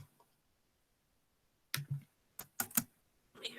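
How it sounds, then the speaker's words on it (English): Keys on a computer keyboard are struck in a few quiet, close clicks that come in a short irregular burst after a long near-silent pause. "And obviously you'd type it in."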